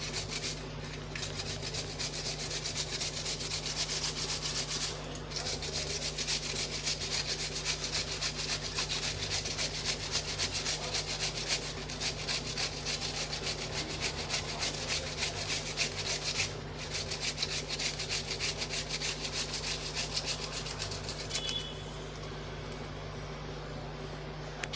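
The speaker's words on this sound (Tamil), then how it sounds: "நம்ம இப்போ உருளைக்கிழங்கை நல்லா நைஸாக துருவி எடுத்துக்கலாம்." Peeled potato grated finely on a hand grater for an egg and potato breakfast, a steady rhythmic rasping scrape with brief pauses between runs, close and continuous throughout.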